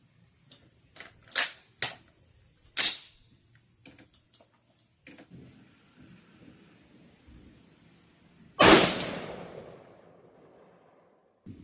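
Rifle shots from a scoped rifle fired at a 100-yard target outdoors: several sharp cracks early on, then one louder, nearer shot with a long rolling echo, followed by faint background noise.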